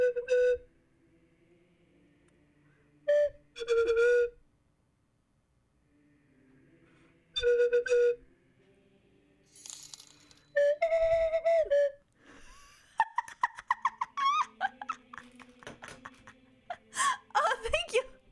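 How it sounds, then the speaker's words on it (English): Slide whistle, called a traditional elven slide flute, plays a series of gliding tones, several sustained pitches with pauses between them, then a faster run of sliding notes and chirps toward the end, with some talk in between. "That's not a slide whistle, it's a traditional elven slide flute."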